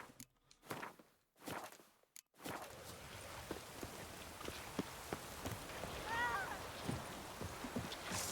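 Steady rain falls in The Witcher 3: Wild Hunt, a broad continuous hiss starting after a couple of seconds of quieter sound, with faint scattered patters and taps mixed into the downpour.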